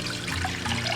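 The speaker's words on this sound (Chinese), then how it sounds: "锅中倒入清水" Clean water pours steadily into a cooking pot, a close, continuous splashing and gurgling stream for char siu braising.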